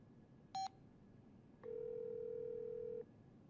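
Cartoon telephone call: one brief high beep, then after a pause a steady, sustained dial tone lasting over a second, heard clearly over a quiet background hiss.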